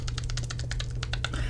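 Fingers tap quickly across a computer keyboard up close, a quiet irregular patter of about a dozen distinct keystrokes over a low steady hum.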